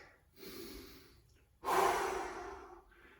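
Deep breathing during a stretching exercise in a full-body conditioning workout, one slow inhale followed by a longer, louder exhale that trails off, close and clear with no talking.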